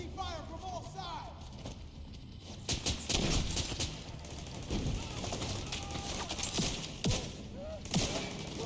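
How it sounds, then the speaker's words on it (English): Gunfire pours in from several directions during a firefight in The Division 2: scattered loud cracks and short bursts repeat at irregular intervals over a continuous din of combat noise, with voices speaking through it. "Taking fire from all sides."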